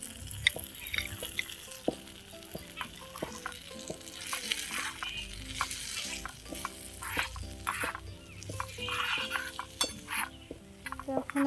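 Fried potatoes being stirred with spices in a pan, a continuous sizzle broken by frequent clinks and scrapes of a utensil against the metal, with no talking.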